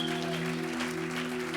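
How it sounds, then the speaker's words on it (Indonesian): Applause from a church congregation at a Sunday service, a steady wash of clapping over sustained music, holding at an even level throughout. "Berikan tepuk tangan bagi dia."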